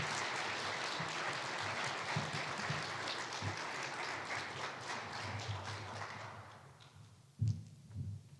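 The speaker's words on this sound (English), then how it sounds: "How about a round of applause for Jay France?" Steady applause fills a retirement ceremony for an Air Force chief master sergeant at Scott Air Force Base, Illinois, sustained for several seconds before fading, with a brief low thump near the end.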